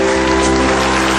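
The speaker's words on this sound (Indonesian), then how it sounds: "tepuk tangan dulu untuk panelis kita" Studio audience on an Indonesian comedy talk show applauds the panelists, a loud, dense, continuous hiss of clapping overlaid with a steady tonal hum.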